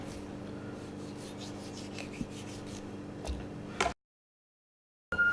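A knife scrapes meat back along a raw chicken leg bone in a French-trim style, a steady close rasping rub for several seconds before cutting off to silence.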